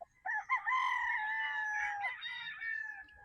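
A Sweater bloodline gamecock rooster crows once, loud and close, a drawn-out harmonic call lasting nearly three seconds and tailing off at the end, with no talk over it.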